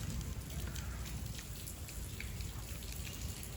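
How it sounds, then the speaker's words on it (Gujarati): Heavy monsoon downpour in Savarkundala, a steady broadband wash of rain with pattering drops on surfaces, continuous and fairly quiet throughout, with no voices. "ફૂલ જોરશોરમાં વરસાદ જામ્યો છે હવે સાવરકુંડલામાં"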